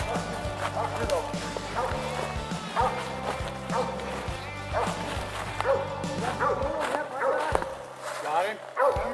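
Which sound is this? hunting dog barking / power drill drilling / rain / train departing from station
hunting dog barking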